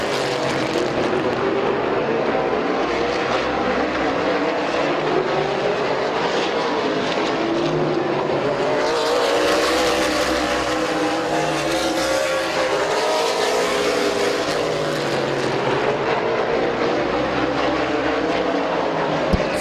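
Race cars circle Midvale Speedway, engines droning continuously as several cars pass nose to tail, with rising and falling pitch sweeps as they go by and a louder surge midway.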